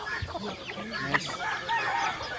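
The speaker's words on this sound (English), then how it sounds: "Up there we got some chicken also." Chickens on a rural province farm in the Philippines cluck in short, irregular bursts, fairly close and moderately loud, over light farmyard background noise.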